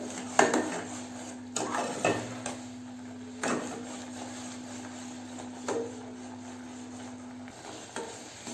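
A spoon scrapes and clinks against a metal pan as a sandesh mixture is stirred continuously, with irregular close scrapes and knocks over a faint steady hum and no talking.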